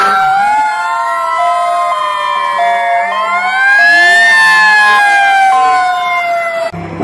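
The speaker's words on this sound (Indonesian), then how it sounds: "Mobil truk pemadam kebakaran." A toy fire truck plays a loud, continuous electronic siren that wails up and down in pitch for about seven seconds, heard alone without talking, before it cuts off abruptly.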